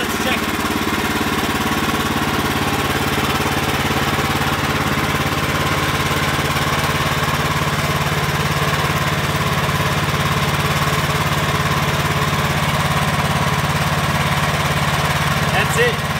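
Sawmill running steadily while milling logs into lumber, a continuous loud engine drone with a mechanical hum throughout, close by and unbroken.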